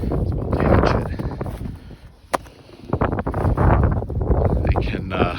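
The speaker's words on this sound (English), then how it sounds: "It's windy out, isn't it? Very windy." Strong gusting wind outdoors on a snowy farm, roaring and buffeting the microphone in waves, with a sharp brief knock in the middle.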